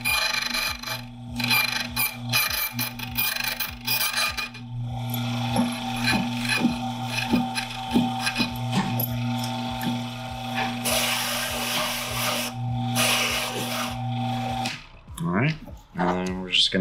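A key duplicating machine cuts a duplicate key, a steady motor hum with rasping, ratcheting cutter noise running for about fifteen seconds before it stops.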